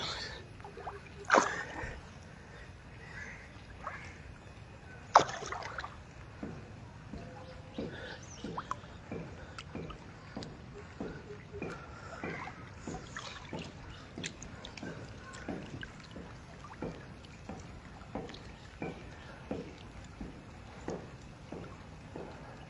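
Oars of a rowing boat dip and splash in a steady, regular rhythm for a long stretch, quiet and close, with a couple of louder knocks near the start.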